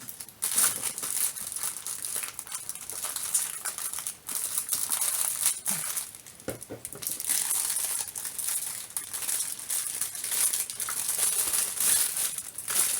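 A dull knife sawing and tearing at a mailed package, with steady crinkling and scraping of plastic and cardboard throughout, close and fairly loud, no voices.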